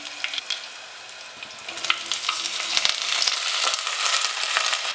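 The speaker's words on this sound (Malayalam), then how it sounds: "ഇതിലേക്കിനി അരിഞ്ഞു വെച്ചിരിക്കുന്ന ചീര ഇട്ടൊന്ന് വഴറ്റിയെടുക്കാം." Chopped amaranth greens sauté in a pan for a Kerala cheera curry, a steady close sizzle that swells and thickens partway through, with scraping stir strokes and no voices.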